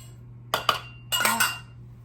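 Almond flour brownie batter for low-carb triple chocolate brownies gets stirred in a bowl, with two short bursts of scraping and clinking from the utensil against the dish over a low steady hum, with no talking.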